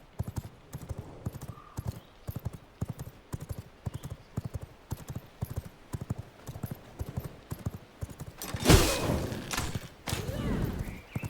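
Horse hooves clip-clop in a steady rapid rhythm as a horse is ridden in the video game V Rising, with a sudden loud thud or burst of impact near the end.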